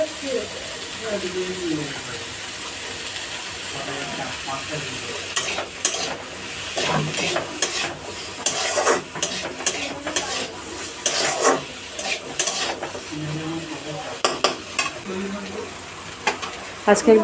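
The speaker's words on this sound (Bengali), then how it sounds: "আদা রসুন বাটা টমেটো সমস্ত কিছু একসাথেই দিয়ে নাড়াচাড়া করে ঘেটে নিচ্ছি" Ginger-garlic paste and tomato stirred together in a hot pan while cooking chicken, giving a hissing sizzle under busy scraping and clattering of a utensil against the pan, with louder clinks toward the end.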